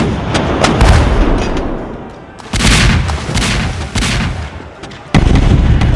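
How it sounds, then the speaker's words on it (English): Cannon fire from the bombardment of British warships at Kagoshima comes as heavy, rolling booms and dense bursts of explosions, loud and continuous, with several sudden blasts over about six seconds and no talk. "the defenders of Kagoshima fired at the unprepared British warships"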